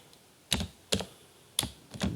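Code is typed on a computer keyboard: a few soft, separate key clacks spaced unevenly, quiet and close, with no voice.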